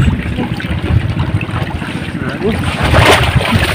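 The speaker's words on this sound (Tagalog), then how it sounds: "Malakas ang agos." A strong river current rushes in a continuous, loud turbulent wash with gusts of wind noise across the microphone, close and unbroken throughout.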